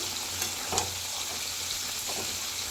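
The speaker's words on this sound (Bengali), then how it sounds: "তো চিনিটা ভালো করে মিক্স করে দিচ্ছি" Vegetable curry simmering in a pan as sugar is stirred in, a soft, even sizzle with a few light spoon taps, fairly quiet, no one speaking.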